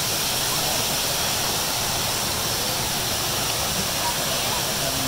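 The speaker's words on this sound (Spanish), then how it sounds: "está rodeada de cascadas de agua termal de alta temperatura" Hot thermal water cascades at a natural jacuzzi surrounded by high-temperature hot spring waterfalls near Copán Ruinas, Honduras, making a loud, steady roaring hiss that fills the whole stretch without letup.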